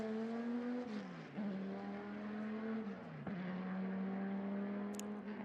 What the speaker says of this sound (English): There's the Viper.